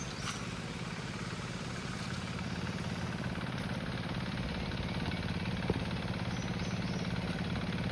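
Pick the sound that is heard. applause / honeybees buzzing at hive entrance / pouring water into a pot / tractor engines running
tractor engines running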